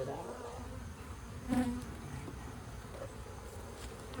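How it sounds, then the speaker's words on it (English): Honey bees swarm around an open hive while frames are inspected and shaken during a honey super harvest, a steady close buzzing hum filling the whole stretch with slight swells. "I shake the bees off and they pretty much go right down in. They go back down in the hive right away."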